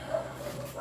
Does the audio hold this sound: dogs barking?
yes